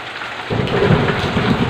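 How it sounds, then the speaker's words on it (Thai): Heavy rain falls steadily outside a house in February, a dense continuous wash that grows louder after a brief quieter start, with no voices. "ฝนตก"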